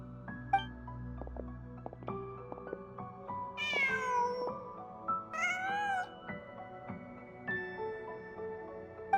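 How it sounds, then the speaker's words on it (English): A cat in the video game Genshin Impact meows several times, each rising, drawn-out call standing clear against soft game ambience and faint background tones, with no talk over it. "Huh. Just a cat."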